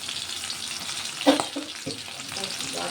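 Cumin seeds and garlic hit hot oil in a pan, giving a steady close sizzle with a sharper burst of crackling about a third of the way in and a few stirring scrapes after.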